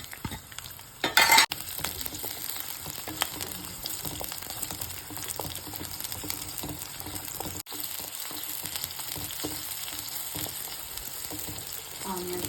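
Onions frying in oil for a tondakaya (ivy gourd) coconut fry, a continuous close sizzle with scattered crackles and occasional utensil scrapes, one brief louder clatter early on, no one speaking.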